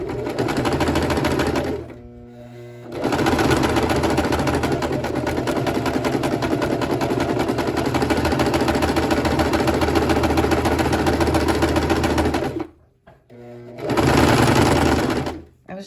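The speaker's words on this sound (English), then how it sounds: "So I'm going to stay stitch over this like that." Sewing machine stay-stitching a shirt neckline, running in long steady rapid bursts, close and loud, with brief pauses between runs.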